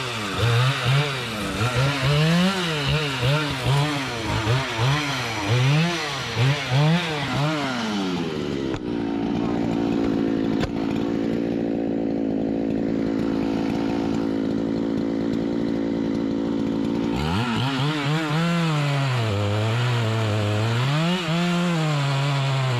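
A chainsaw cuts into a white oak using a triple hinge chase cut, its loud engine revving up and down in waves, then holding a steady high whine while buried in the wood before revving again.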